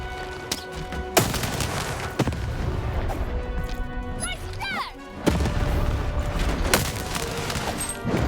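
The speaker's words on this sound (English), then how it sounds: "Shoot the button to fire the cannon." Cannon blasts in the video game Lost in Random, several loud booming shots with crashing impacts over continuous game music and effects, with a rising whistle in the middle.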